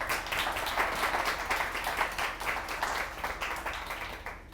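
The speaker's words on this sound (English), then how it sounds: "let's give Jen a round of applause and thank you for coming" An audience claps for a speaker at a startup incubator talk: a full, even round of applause from a roomful of people, sustained for several seconds before beginning to thin out.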